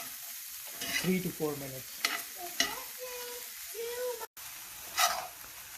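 Sausage, peppers and mushrooms cook in a single skillet with a soft background sizzle and occasional stirring scrapes, while a voice talks over it.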